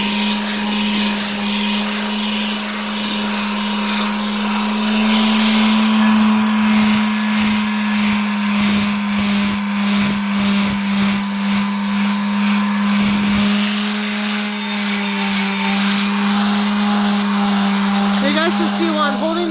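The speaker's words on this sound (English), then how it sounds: "You guys can see while I'm holding the sander vertically" A power sander held flat scours rust off the side of a rail plate, a loud steady whine with a constant droning tone running the whole time, its grinding roughness rising and falling as it works.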